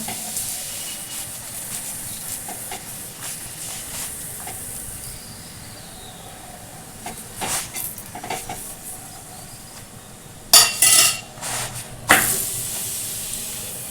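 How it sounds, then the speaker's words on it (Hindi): A drumstick (moringa) paratha fries in oil on a pan with a constant hiss, broken by a few louder sizzling bursts near the end. "अब परोठा को हम तेल लगा देते हैं। हम इसे पलट के दूसरे साइड पर तेल लगाएंगे।"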